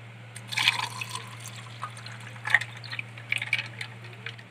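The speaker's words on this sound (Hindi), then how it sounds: "तो अब हम इसमें ऐड करेंगे पानी" Water poured into a glass of masala lemonade made with lemon and spices, with short splashing and trickling bursts over a steady low hum, close and fairly quiet, no talking.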